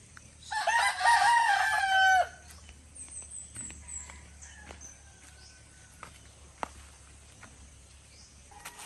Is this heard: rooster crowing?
yes